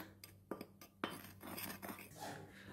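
A spoon scrapes and clinks against a bowl while stirring a cocoa, cinnamon and sugar filling for cinnamon rolls, with a few sharper taps followed by a steady, quiet scraping rhythm close by.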